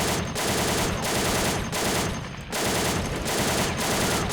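Rapid anti-aircraft turret gunfire from the video game American Last Stand, loud and close, with sustained automatic bursts broken by brief pauses roughly every half second to a second.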